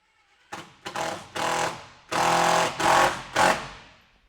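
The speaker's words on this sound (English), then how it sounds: "we're going to put the roof panel screws in and secure it down to the rafters" A power driver sinks 8-inch roof panel screws through roof panels into wooden rafters, a series of six loud, close, whirring bursts of varying length, the longest running about half a second, separated by short pauses.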